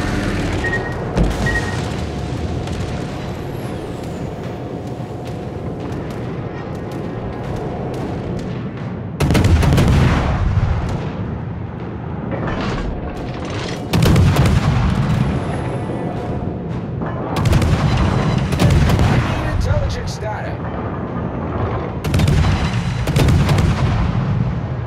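Anti-aircraft guns on the cruiser Atlanta in World of Warships hammer away in dense, continuous bursts, loud and close, with heavier booming volleys swelling at intervals over a steady rumbling battle din.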